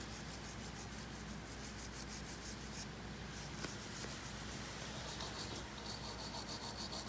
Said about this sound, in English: You just use the wire brush to sand it down.